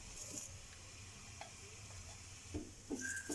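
An aloo paratha frying in a pan as oil is spread over it, giving a soft, steady low sizzle with a few brief scraping and stirring touches near the end.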